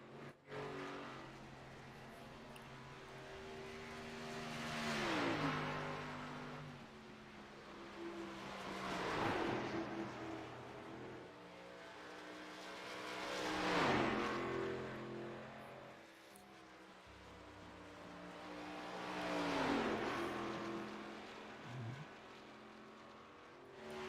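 Race cars in an IndyCar-style oval race roar past in four distinct waves, each engine note climbing to a loud peak and sliding down as the cars pass and recede, with steady engine drone underneath.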